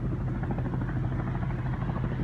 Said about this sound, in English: Nice Huey flying over.